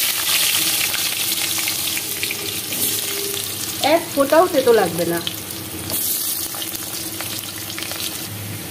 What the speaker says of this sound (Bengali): সয়াবিন আর আলুগুলো ভাজতে হবে